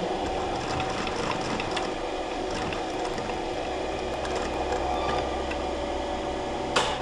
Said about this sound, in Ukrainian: В кінці строчки виконайте закріпку.